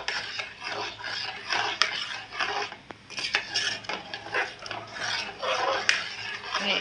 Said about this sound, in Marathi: मिक्स करून घेतो व्यवस्थित.